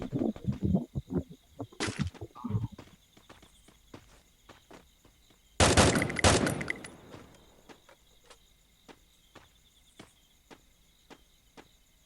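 Gunshots in the Free Fire video game come as sharp, loud bursts, with a cluster early on and a heavy blast midway, followed by sparse faint clicks and ticks over a quiet background.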